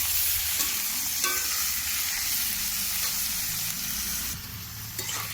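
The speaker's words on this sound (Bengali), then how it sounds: "বেগুন, আলু, টমেটো কুচি তেলে ভেজে দেওয়া হলো" Oil sizzles steadily in a pan as chopped eggplant, potato and tomato fry, with occasional stirring scrapes and soft clinks close up, no voices.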